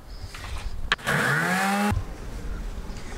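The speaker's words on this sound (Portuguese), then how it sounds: "vou usar também essa lixadeira aqui para facilitar o trabalho e também para ser mais rápido" An electric sander runs on wood fitted with 120-grit sandpaper, part of building a bathroom in a Kombi van or motorhome: one loud burst of about a second, its motor whine rising in pitch before cutting off abruptly.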